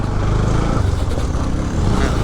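A motorcycle rides along a village road on a new route to Khalse village, its engine a steady, loud, close drone with rough rumble throughout, no other sounds breaking through.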